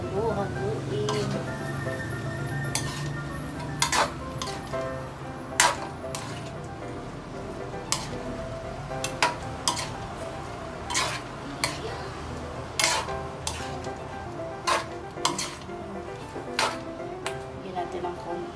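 Food being stirred in a pan for a Filipino kaldereta, with a metal utensil repeatedly clanking and scraping against the pan in irregular knocks over a low sizzle.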